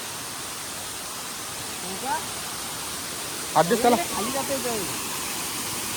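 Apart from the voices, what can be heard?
village waterfall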